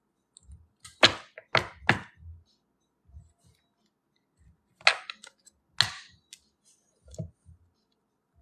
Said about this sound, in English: Let me just go back to shuffling my cards over here.